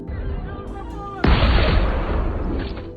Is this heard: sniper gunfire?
yes